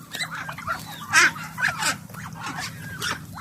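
Farmyard turkeys, chickens and ducks crowding together at feeding time, a busy clamor of honks, squawks and clucks overlapping in bursts, fairly close and loud, with no talking.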